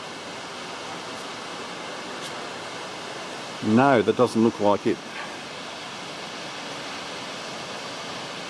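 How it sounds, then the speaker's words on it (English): Empress Falls at Wentworth Falls in the mountains makes a steady, distant rushing hiss of falling water throughout. Someone speaks briefly over it. "So I believe this waterfall that we can hear down here, that's Empress."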